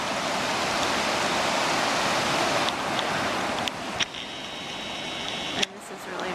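Heavy water roars and splashes from a waterfall seen from a bridge, a loud, steady hiss of spray close to the microphone with a few bumps and clicks as the camera is handled.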